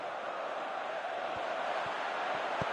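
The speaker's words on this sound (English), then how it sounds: "Crowd calling for him to shoot." A football video game crowd roars steadily in the background, calling for a player to shoot, a constant distant wash of massed voices with a few low thuds.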